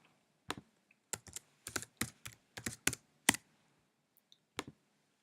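Fingers tap out a username and password on a computer keyboard, giving about a dozen close, crisp key clicks in uneven bursts with short pauses between them, and no talking.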